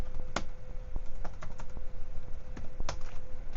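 Keystrokes on a computer keyboard as a block name is typed in architectural CAD software, an irregular run of quick clicks with a few louder taps, close and clear over a steady faint background hum.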